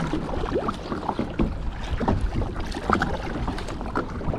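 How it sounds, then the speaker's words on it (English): A kayak paddles out of a harbor into a headwind, with steady wind rush, water splashing and paddle strokes close by. "It looks like it's going to be a little bit of a paddle out of the harbor and up the coast. And I'm going right against the wind."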